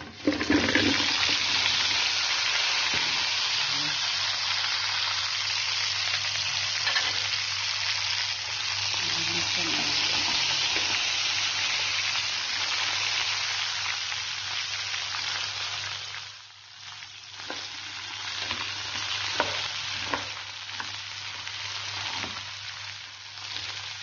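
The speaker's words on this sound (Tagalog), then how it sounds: "Igisa natin siya hanggang siyang maluto." Garlic and vegetables sauté in a pan, a continuous loud hissing sizzle with occasional stirring knocks, easing toward the end as clinks and small pops break through.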